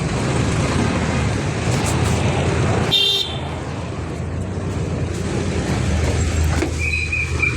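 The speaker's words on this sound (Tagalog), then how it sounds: "Nagsasakay na naman kami ng jeep." Steady rumbling drone of a jeepney riding through traffic, heard from inside, with road noise throughout, a sharp clatter around three seconds and a brief distant horn toot later on.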